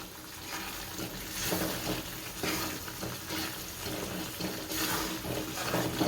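A spice mix for Gujarati gundar paak being stirred in a pan, giving a steady sizzling, scraping texture with repeated swells as the mixture is turned, moderately close and without any talk.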